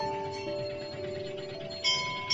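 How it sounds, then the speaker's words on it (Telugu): Hanuman temple bells ringing amid a busy crowd, a steady metallic ringing with a brighter clang near the end. "గుడి గంటలు మోగుతున్నాయి."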